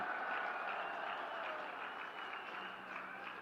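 An audience claps through a sustained round of applause at an inauguration and foundation-stone ceremony in Uttarakhand, even and fairly distant crowd clapping with no speech over it.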